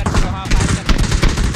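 Rapid bursts of close, loud gunfire in PUBG, a quick string of sharp shots repeating through the moment, with players talking over the shooting.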